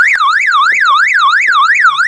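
A car alarm wails in a steady rising and falling siren tone, sweeping up and down about twice a second, loud and close with no voices over it.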